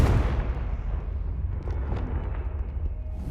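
A Confringo fire spell blast in Hogwarts Legacy, heard as a loud, deep rumbling burst that rolls on steadily with no talk over it.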